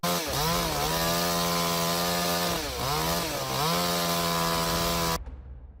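A large chainsaw cuts into a big tree, its engine roaring loud and close with steady harmonic drone that dips twice as the revs bog and recover, then cuts off abruptly near the end.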